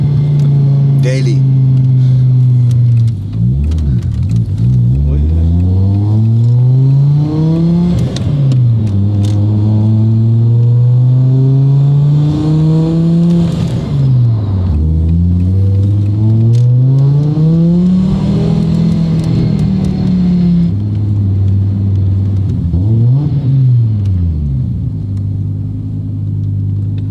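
An Audi A4 with a five-cylinder engine revs and accelerates repeatedly on a street, its loud, rumbling note climbing through several gears with brief dips between pulls.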